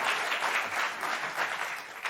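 Studio audience at a late-night comedy talk show applauds in a short, moderately loud spell of mixed clapping that swells and dips slightly.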